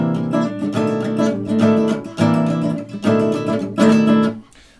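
Guitar strumming of the rhythm in an arrangement, played as four clear, accented bursts of ringing chords with short pauses between them, loud and close.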